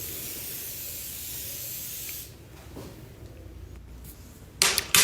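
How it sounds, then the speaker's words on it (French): Avène facial mist sprays in a steady loud hiss for about two seconds, then quiets, followed by two short sharp bursts of spray near the end. "le drainage lymphatique avec le spray d'Aven"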